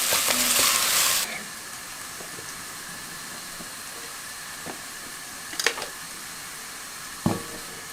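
Onion frying in a pan with steady sizzling that is loud at first, then drops to a softer constant hiss, broken by a few scattered clinks and scrapes of stirring.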